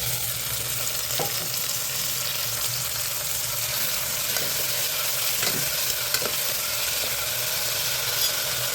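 Tomatoes and curry leaves fry in a pan with a steady, close sizzle, broken by a few sharp scrapes of a spoon stirring, and no voices.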